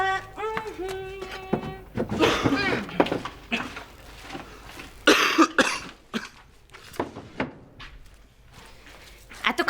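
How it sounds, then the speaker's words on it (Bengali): A person coughs repeatedly in harsh bursts with some throat clearing during a dramatic indoor household scene, mixed with voices, door thumps and footsteps. "এত কাশি হয়েছে তো কাফ সিরাপ খা না"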